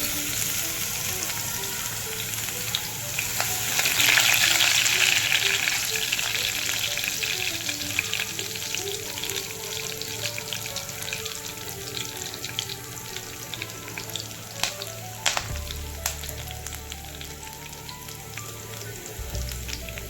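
Cumin, mustard seeds and ginger-garlic paste fry in hot oil for a home-style Maharashtrian dal, giving a steady close sizzle that flares loudly early on, then settles into a continuous crackle with a few sharp pops and a clatter near the end.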